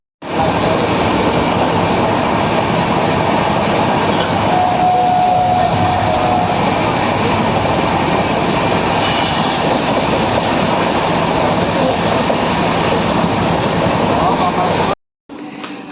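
Purvanchal Express 15050 heard from inside a general coach: a loud, steady rumble and roar of wheels on rails that runs unbroken for about fifteen seconds, then cuts off briefly near the end.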